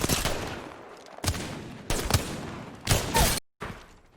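Rapid hip-fire gunfire in Apex Legends, heard as five loud, close bursts of automatic shots. The bursts are separated by brief pauses, with a short silent gap near the end.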